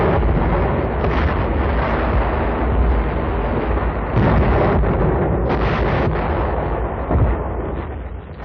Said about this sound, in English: After a final bombardment